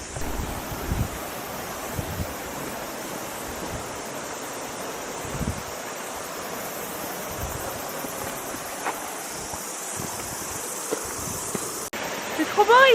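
A mountain stream torrent in New Zealand rushes in a continuous broadband wash, steady and moderately loud with occasional wind buffeting on the microphone.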